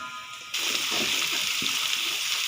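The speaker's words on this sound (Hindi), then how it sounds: "ये देखें पानी इसका ड्रेन कर देते हैं।" Boiled water drained off cooked goat brain pieces for a masala fry, a sudden steady pour and splash that starts after a brief quieter moment and continues evenly to the end.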